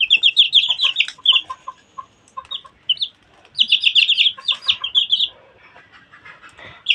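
Tiger breed chickens clucking and chirping close by in bursts, with high tweeting calls and short pauses between flurries, no talk.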